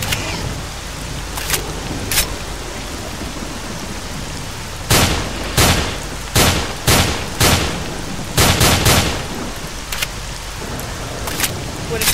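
Shotgun blasts in a video game ring out in sharp, loud bursts, a few scattered early shots followed by a rapid cluster of heavy reports, over a constant background hiss.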